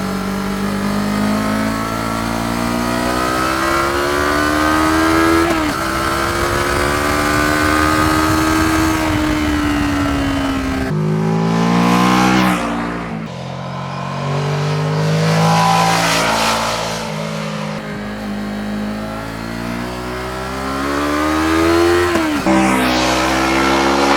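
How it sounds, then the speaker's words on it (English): A naked beginner motorcycle engine revs repeatedly, rising pitch sweeps growing louder at higher revs, loud and close, with gear-change dips between climbs and no talking. "as the revs are rising, the engine sounds better and louder and even better"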